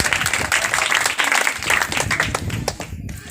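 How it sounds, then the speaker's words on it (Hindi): A church congregation at a healing service claps loudly in thanks to God, a thick burst of applause that fills the space before thinning and breaking off near the end. "जोरदार ताली बजा के परमेश्वर को धन्यवाद दें।"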